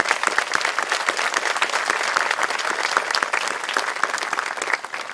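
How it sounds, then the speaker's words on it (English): An audience at a middle school closing exercises ceremony claps steadily, a dense, even round of applause lasting several seconds with no voices rising above it. "Please join me in a round of applause."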